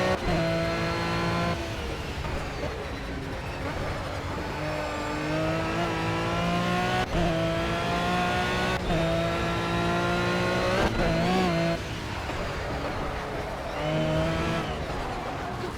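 A car racing in a PS4 driving game played through a USB wireless adapter, its engine droning continuously and loudly as it rises and falls in pitch through gear changes, with brief squeals and revs.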